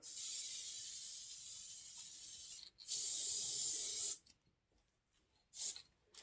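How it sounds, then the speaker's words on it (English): A can of spray adhesive sprays in three hissing bursts: two long sprays close together, a pause, then a short final spritz, each sharp and close. "Spray paint it out."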